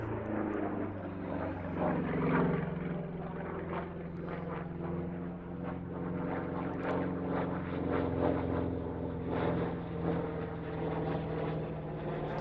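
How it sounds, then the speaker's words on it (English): A P-47 piston-engine fighter named Nellie, in 48th Fighter Group US Army Air Force markings, flies at the Midlands Air Festival airshow. Its steady, distant propeller drone rises and falls gently throughout, with no voices. "The P-47 was introduced in 1942, and it is the largest and heaviest piston engine fighter in history."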